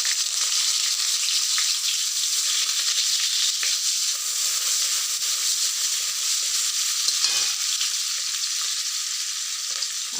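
Onions frying in a pan with steady, loud sizzling and hissing that continues throughout, along with occasional stirring scrapes close by and no talk.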